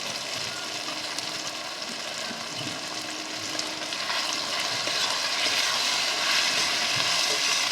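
Onions and tomatoes fry in a pan for a homestyle country chicken curry, giving a steady, close sizzle and crackle that builds slightly, with no talking.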